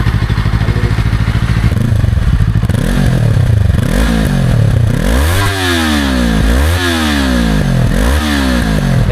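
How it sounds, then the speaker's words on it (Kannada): Yamaha MT-03 twin-cylinder naked motorcycle revving repeatedly with a deep, loud exhaust note that swells and drops in several rising sweeps, heard up close with some mechanical clatter. "MT-03 ಇದು ಒಂದು ಸತಿ ಎಕ್ಸಾಸ್ಟ್ ನೋಟ್ ಕೇಳೋಣ ಇವಾಗ."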